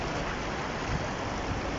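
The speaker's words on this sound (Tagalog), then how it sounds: "Ang lakas ng agos oh." Strong floodwater current rushing through the streets of Al Barsha, Dubai, a dense, steady roar of churning water that fills the scene continuously and loudly, with no voices over it.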